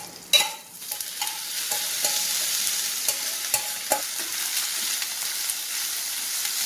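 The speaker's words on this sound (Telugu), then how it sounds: "కీమా దీంట్లో వేసిన తర్వాత కలర్ మారే వరకు ఫ్రై చేసుకోవాలి." Mutton keema sizzles and fries in hot oil with green chillies, a steady crackling hiss with scraping stirs and occasional sharp spatters, close up and loud, no voices.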